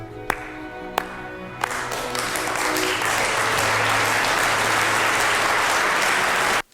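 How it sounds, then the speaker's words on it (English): Steady applause from a large crowd swells after a few separate early claps and continues at full strength, dense and close, before cutting off abruptly. "This deserves a slow clap."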